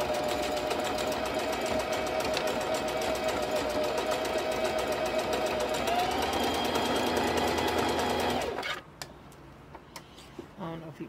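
A sewing machine runs fast and steady in a zigzag stitch over doubled hair wefts with an open presser foot, a continuous close mechanical whir that stops abruptly near the end, leaving faint clicks and handling noises.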